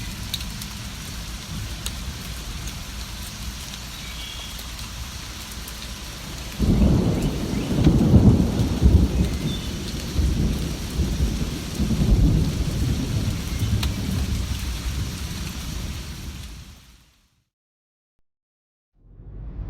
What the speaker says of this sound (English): He fell asleep to the sound of rain on the roof.